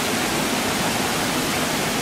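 A waterfall in Brazil, a steady loud broadband rush of falling water that fills the whole clip without pause, with no voices over it.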